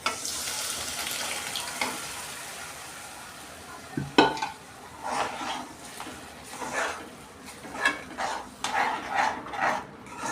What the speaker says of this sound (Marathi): आपण डाळ घालून घेऊया